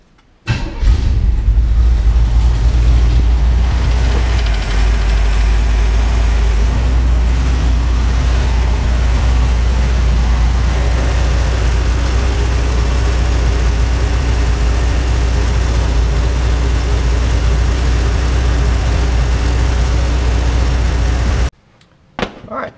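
The engine of a 1980 Chevrolet Camaro, second generation, catches after a brief crank and settles into a loud, steady, low rumbling idle that runs without interruption for about twenty seconds, then cuts off near the end.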